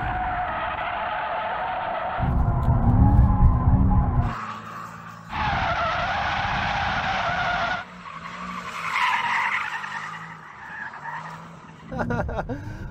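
A Mercedes E63 S in drift mode skids its tyres on a track, loud sustained squeals in several long bursts separated by engine roar, with a brief spoken comment in between.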